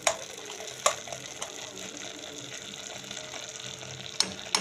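Ghee is spooned into hot dalia khichuri in an opened pressure cooker over low heat, sizzling softly throughout while a spoon scrapes and knocks against the pot several times.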